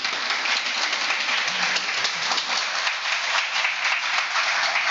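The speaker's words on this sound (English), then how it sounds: "Please a round of applause for all of them." Audience applause for event sponsors at a college lecture, a steady wash of many hands clapping, loud and continuous throughout with no pauses.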